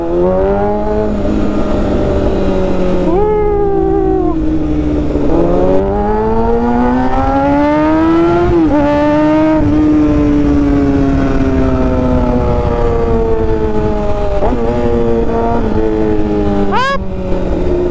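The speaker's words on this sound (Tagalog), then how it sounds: "Maraming sasakyan." Busy street traffic in Dagupan City, with loud engines rising and falling in pitch as several vehicles pass close by, one after another, filling the whole stretch continuously.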